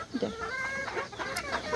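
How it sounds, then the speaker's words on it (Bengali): Four roosters cluck softly in a few scattered bursts, fairly faint, with a steady background hum and no voices. "4টা মুরগা ছাইড়া দিছি এখানে"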